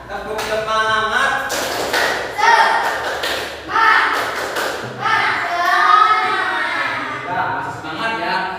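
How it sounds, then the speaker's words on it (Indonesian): A classroom of pupils performs the rhythmic 'tepuk semangat' spirit clap, with bursts of patterned clapping mixed with the children's voices chanting along throughout, loud and close. "Tepuk semangat, semangat. Tepuk semangat."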